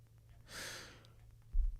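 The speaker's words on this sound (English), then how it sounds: "Oh, was that a yawn?" A single soft breathy yawn, close and brief, rising and fading in about half a second, followed by a small low bump.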